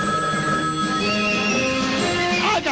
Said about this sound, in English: Celebrity line ringing.